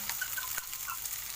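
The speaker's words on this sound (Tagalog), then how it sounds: "Tapos, ating hahaluin para masipsip ng ating karne itong ating mga sahog." Chicken adobo is stirred with its ingredients in a pan, making a steady hiss of sizzling with light scraping and one brief knock partway through.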